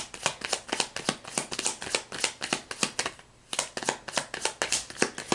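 Tarot cards being shuffled by hand, close and fairly quiet, with a rapid series of crisp riffling flicks, a brief pause near the middle, then more quick shuffling.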